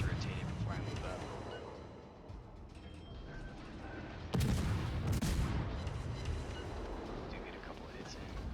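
Ship guns fire in World of Warships as a Mogador destroyer trades shots: two heavy booming salvos land mid-way over a constant low rumble of battle noise.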